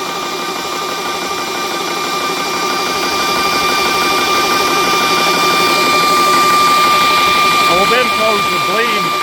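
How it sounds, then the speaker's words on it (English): A VEVOR PCP air compressor runs with a steady mechanical drone and high whine, building slightly in loudness, while someone talks over it. "Now you can hear the compressor running"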